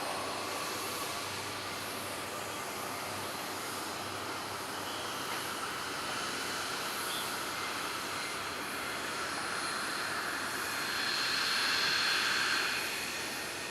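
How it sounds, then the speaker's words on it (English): A steady, distant roar of jet engines at Nagasaki Airport that holds evenly and swells briefly near the end. "the engines are really, really loud. Like screamingly loud."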